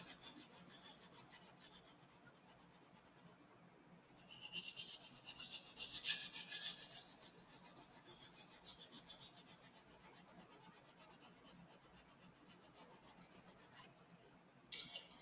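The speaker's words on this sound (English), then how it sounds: "So I'm just gonna go with my sander." A sander works over a rough joint on a Kingon 7D Cattle Bruiser model, giving a rasping, rubbing grind that comes in bursts, surging louder in the middle and again near the end with quieter pauses between.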